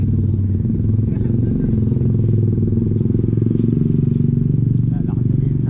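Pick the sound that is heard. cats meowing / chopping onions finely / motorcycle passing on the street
motorcycle passing on the street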